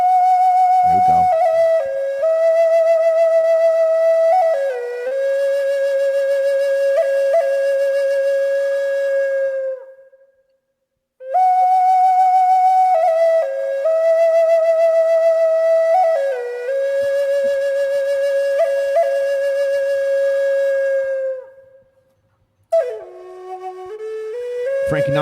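A house track plays, its bright, whistle-like synth melody repeating in long sustained phrases that drop out briefly twice, with no talking over it.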